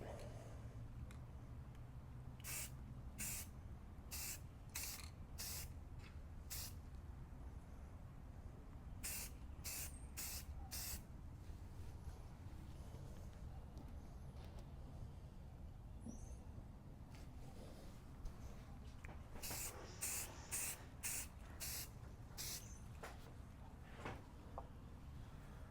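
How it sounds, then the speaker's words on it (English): Rust-Oleum moss green spray paint misted lightly from about two feet away, short hissing bursts repeating in clusters with pauses between, over a steady low room hum. "Rust-Oleum moss green. And when I say a light dusting, I'm going to be about 2 feet away from it."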